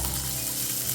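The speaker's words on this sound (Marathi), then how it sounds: "कांदा थोडा भाजून झाला ना की त्यानंतर आपण त्यामध्ये सुकं खोबरं घालून भाजून घेऊया" Chopped onion and dry coconut roasting in a little oil in a pan, giving a steady, close, even sizzle with no voices.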